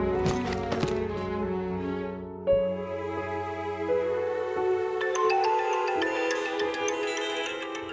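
A phone rings in a home, a sustained electronic melodic tone with layered chiming notes that shift pitch partway through, moderately quiet with no voices.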